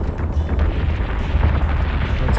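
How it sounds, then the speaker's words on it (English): Rumbling missile and artillery explosions from a Battlestar Galactica space-combat video game: a continuous, dense, low roar of overlapping blasts and pops that holds steady and loud throughout. "Lots of missiles, artillery, very good."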